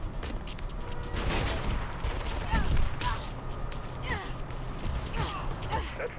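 Gunfire in the video game Mirror's Edge: repeated shots and bursts at steady loudness throughout, mixed with breathy gasps and a short voice.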